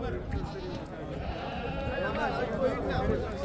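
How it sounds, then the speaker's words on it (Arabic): Sheep bleat at the Kirkuk sheep market in Iraq, several wavering cries rising over a busy crowd of people talking nearby. "سوق غنم كركوك"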